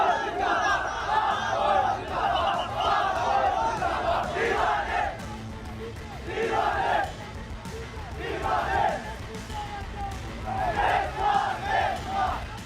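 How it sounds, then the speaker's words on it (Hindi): A large crowd of extremists in Lahore chants pro-Pakistan army slogans in loud, rhythmic collective shouts that rise in repeated waves, with a steady crowd roar beneath them. "नीचे खड़ी हजारों कट्टरपंथियों की भीड़ पाक फौज जिंदाबाद के नारे लगा रही"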